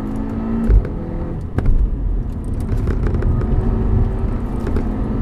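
A Polestar car with an upgraded sway bar takes a corner on the road, giving a loud, steady engine and tyre drone with a faint whine, a couple of bumps early on and a slight swell toward the end.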